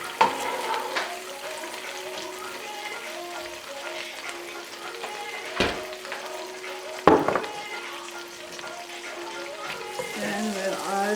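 Butter melting over lowered heat in a pan for chicken karahi gives a steady, close sizzle, with a few clattering knocks from utensils and faint talk in the background.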